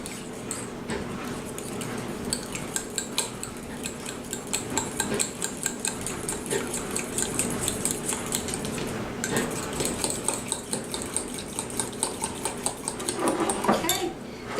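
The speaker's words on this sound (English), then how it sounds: "And to that we're going to add 1 egg and stir it up really good." Spoon stirring a butter, cheese and egg mixture in a bowl, repeated clinking and scraping in a steady rhythm, with some background hum.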